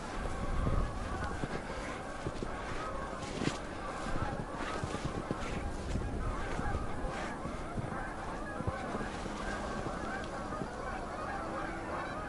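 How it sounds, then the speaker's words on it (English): Outdoor waterfowl honk and call in a continuous clamor, loud and close, mixed with rustling and wind-like noise; speech may be faintly mixed in. "From the alarm of those ducks,"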